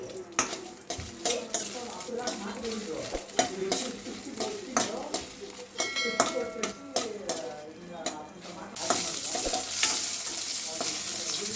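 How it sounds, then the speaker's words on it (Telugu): Green chillies and dried red chillies fry on a low flame for a curry leaf chutney, a continuous sizzle under frequent spoon scrapes and clanks against the pan, with a brief bright hiss toward the end. "పచ్చిమిరపకాయలు అలాగే ఎండుమిరపకాయలు కూడా వేసి వేయించుకోవాలి"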